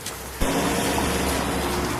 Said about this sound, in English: It's been raining the whole time.